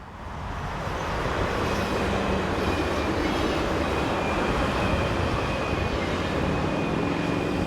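Two coupled electric multiple unit trains, units 425097 and 106, pass on an elevated section beside a main road, with a steady, loud rumble of wheels and motors that builds over the first second and holds throughout.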